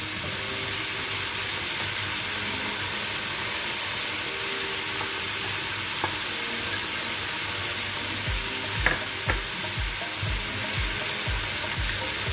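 Salted mustard greens sizzle and fry with shrimp in a hot pan, a steady broadband crackle running throughout, with a few sharper stirring clatters near the end.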